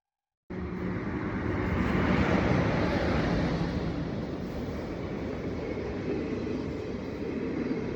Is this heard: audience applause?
no